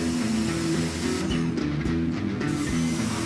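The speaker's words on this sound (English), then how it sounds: "I'm going to take the power washer, and I have it on the fan setting, and spraying down the front of the engine" Power washer on a fan setting spraying the greasy engine bay of a 2004 Mustang GT, a steady close hiss of water with brief changes as the spray moves, over a constant low machine hum.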